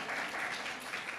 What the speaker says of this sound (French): Je pense qu'on peut l'applaudir très chaleureusement.